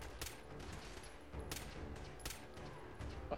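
Faint scattered gunfire in Fallout 4, with a few sharp shots and short bursts spread across a low, steady background of combat noise.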